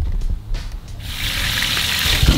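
Water running from a tap inside a van, a steady hiss that swells in after a brief rustling start and keeps flowing, close and fairly loud.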